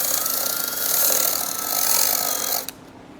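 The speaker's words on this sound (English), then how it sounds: "So what you can do is use a machine like this and pretty much sand it down." Power sander smoothing a rough stainless steel edge on a Tesla Cybertruck, giving a loud, steady, close grinding whir that stops abruptly near the end.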